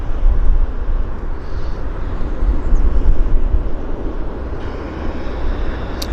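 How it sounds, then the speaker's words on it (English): An Air Canada Jazz airliner bound for Yellowknife rolls for takeoff at Vancouver airport, a loud, steady, deep roar and rumble that holds throughout with no voices over it. "Yellowknife Air Canada Jazz Flight 478. Also rolling without much delay."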